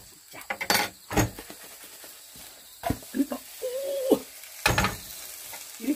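A Korean potato pancake with vegetables fries in a pan, its oil crackling and sizzling softly up close, punctuated by clinks and scrapes of a utensil, with a faint murmuring voice in places.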